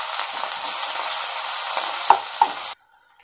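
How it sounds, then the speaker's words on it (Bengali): Long-sliced onions frying lightly in a pan for a hariyali (spinach) chicken curry give a loud, steady sizzle with a couple of stirring clinks, ending abruptly into near silence. "এবার পেঁয়াজটা আমি হালকা করে ভেজে নেব।"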